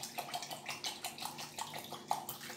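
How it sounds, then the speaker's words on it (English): Fresh mountain spring water poured into a container while making mammy apple punch, a steady splashing pour with bubbling and small gurgles throughout, close and moderately loud. "And then add some water."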